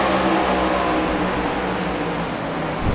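Race car engines run at Indianapolis, a steady loud whirring drone of speed held at high revs with no breaks, close and continuous, with no voices over it.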